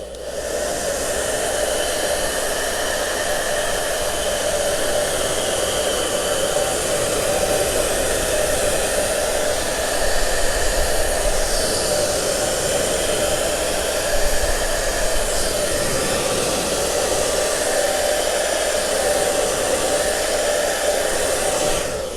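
A hair dryer blows continuously and loudly at close range for over twenty seconds, drying a chalk stencil held in place on a surface, with no talking.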